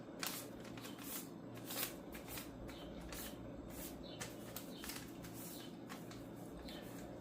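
Paper being creased and folded by hand into an origami stingray, soft crinkling and swishing strokes recurring close up in a quiet room, no talking.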